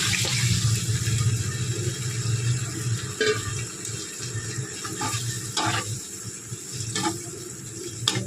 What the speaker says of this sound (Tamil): இந்த டைமில் நான் கொஞ்சம் தண்ணி சேர்த்துக்கிறேன்.